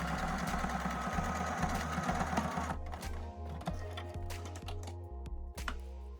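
A sewing machine stitches a quarter-inch seam with right sides together along a ribbon edge on a fabric napkin ring, a steady motor hum that runs for about three seconds and then stops, leaving light clicks and handling sounds.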